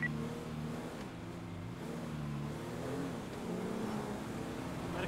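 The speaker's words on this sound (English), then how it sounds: "I hear that engine revving a lot." A car engine revs in a highway-patrol roleplay video game, a steady, droning motor that rises and dips in pitch throughout, faint and continuous with no talk.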